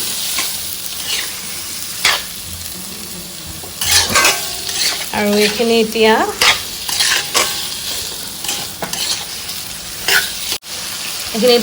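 Pork sizzles and fries steadily in an iron wok while a utensil stirs and scrapes against the metal. A voice speaks briefly over the cooking.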